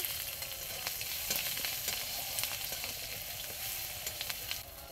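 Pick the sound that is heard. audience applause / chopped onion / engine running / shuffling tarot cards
chopped onion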